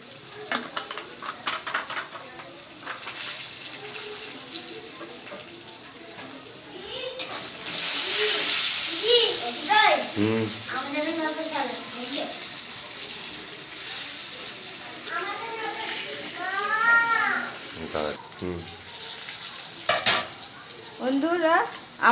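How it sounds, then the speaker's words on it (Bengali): Potatoes fry and get stirred in a pan for a Bengali fish curry with potato and elephant-foot yam, a soft sizzle under scraping stir strokes, with scattered brief bursts of voice over the cooking. "আমার আলুটা ভাজা হয়েছে"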